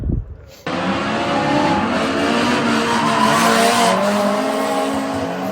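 A drift car skids at the Final Bout drift event at Mobara Circuit in Chiba, Japan, its engine roaring and tires squealing loudly and continuously after an abrupt start, close by and dominating the scene.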